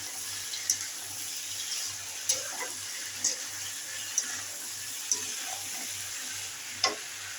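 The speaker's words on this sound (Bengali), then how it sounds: "আলুগুলো ভালো করে নেড়ে চেড়ে নিয়েছি" Potatoes with crushed onion and chili being stirred in a frying pan, a low continuous sizzle broken by regular sharp spatula clinks on the pan roughly every second, close by.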